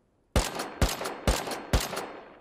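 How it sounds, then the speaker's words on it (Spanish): Gunfire in the video game Rust: four loud, close, sharp bursts roughly half a second apart after a brief silence, with the start of another at the very end and no voices. "Se escuchan tiros en la casa."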